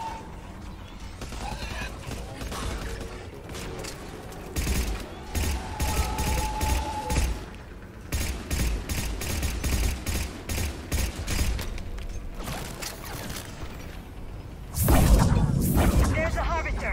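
SMG gunfire in Mass Effect 3, bursts of rapid shots rising in the middle and a louder blast near the end, heard amid game combat noise with a voice talking at times.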